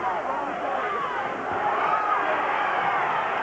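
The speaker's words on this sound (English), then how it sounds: "You can hear it from the crowd" A boxing crowd roars steadily through the closing seconds of round one of Frank Bruno vs Oliver McCall, a dense, continuous wall of arena noise with voices blending into the din.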